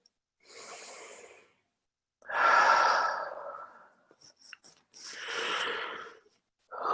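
A person breathes slowly and deeply during a guided meditation: four long audible exhales and inhales, close to the microphone and soft, with brief faint rustles between them and no speech.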